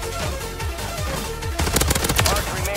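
An AMR 9 submachine gun fires in Warzone 3: evenly spaced punchy shots, then a denser, louder rattle of rapid fire, close and prominent.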